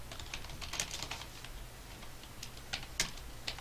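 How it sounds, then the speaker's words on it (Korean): Keyboard typing, a steady patter of key clicks with a few sharper, louder strikes, close up and with no voices. "제가 타자가 좀 느리지만은"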